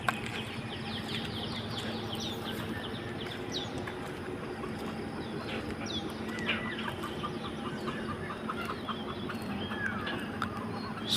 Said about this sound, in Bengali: এই যে মুরগি ডাকছে জঙ্গলে